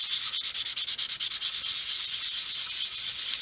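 A sanding stick rubs across a plastic model kit, a 1/144 C-141B Starlifter, in quick rhythmic strokes that fade into a softer continuous scrubbing, close and fairly quiet.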